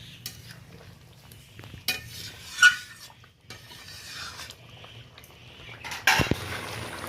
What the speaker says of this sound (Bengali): ভালোভাবে মিশিয়ে নিচ্ছি এটা।